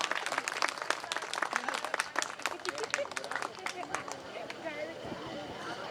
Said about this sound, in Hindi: आप लोग जोरदार ताली दे करके इन्हें भी